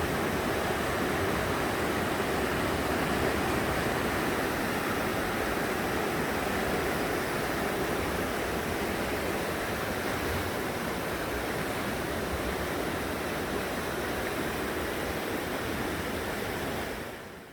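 A mountain valley stream in the Odaesan fir forest, near a small waterfall, rushes loudly and steadily beside a wooden deck trail, a dense unbroken roar of water from start to finish with no voices.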